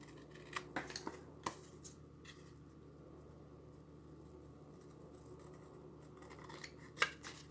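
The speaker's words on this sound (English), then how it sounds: "all I'm going to do is just cut along that line that's scored" Scissors snip along a scored line on a craft stencil for a wooden coffee cup, a few quiet close-up clicks early on, then a pause and a final sharp snip.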